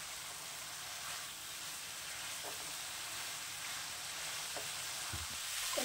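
Chopped mixed vegetables with hing and fenugreek sizzle steadily in a hot pan, a soft even hiss broken by a few faint scrapes as they are stirred.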